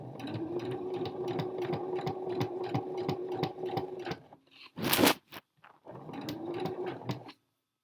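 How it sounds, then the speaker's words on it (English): Sewing machine stitching a curve on a blouse, a rapid rhythmic needle chatter with a steady motor hum that pauses briefly mid-way, gives a short rustle, then runs again. "you're stitching a curve, so make it a curve"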